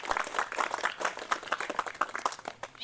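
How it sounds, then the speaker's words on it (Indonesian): An audience at a village first-harvest event for a food security garden in Desa Mendalo Indah breaks into scattered applause, a run of quick, moderately soft claps lasting a few seconds. "mari kita beri aplaus untuk Desa Mendalo Indah"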